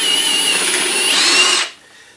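A power drill bores a hole in the base of a woodworking assembly jig, running as one loud, steady whir for about a second and a half before it stops abruptly, leaving near silence.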